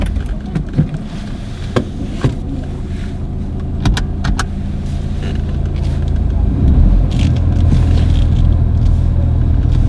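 A car pulls away during a driving test, its engine rumble building steadily from idle over several seconds, with a few sharp clicks and knocks inside the cabin and people speaking.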